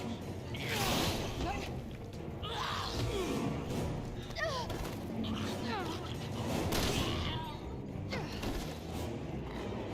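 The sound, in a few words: gunfire in the video game Resident Evil 6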